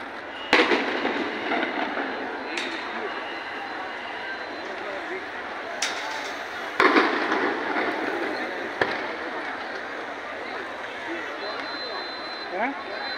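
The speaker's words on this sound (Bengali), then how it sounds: "ওরাও গুলি করতেছে এখান থেকে" Sharp gunshot-like cracks during a street protest in Signboard, Narayanganj, watched from a rooftop: a few loud reports at irregular intervals over a constant roar of crowd noise and distant commotion, with people talking nearby.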